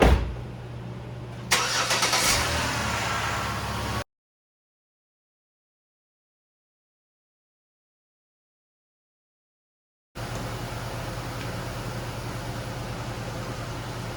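A car engine cranks and starts, then idles steadily during power steering bleeding, with a stretch of silence before the running engine resumes; no talking.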